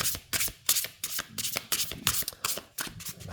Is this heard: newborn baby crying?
no